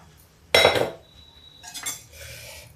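Cooked masoor dal tipped into a pan with a sharp metallic clatter of utensil against the pan, followed by a thin whistle and softer clinks and sizzling scrapes.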